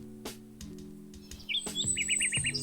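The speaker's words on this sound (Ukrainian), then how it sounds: "Співає пташка." A small bird sings a quick series of high, bright chirps and trills, with a low steady hum in the background.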